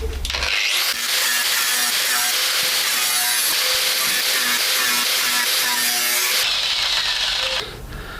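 A power tool cuts rusty metal out of the front corner of an Audi A3 track car, a loud continuous grinding roar that holds steady for about six seconds before easing off near the end.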